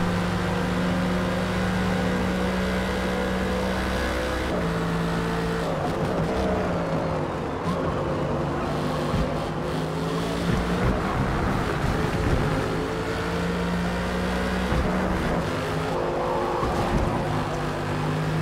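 Race cars, including a Mercedes-AMG GT3 and a Viper, lap a circuit in Forza, with a steady engine drone that rises and falls through gear changes and a pack of cars close together, with no voices.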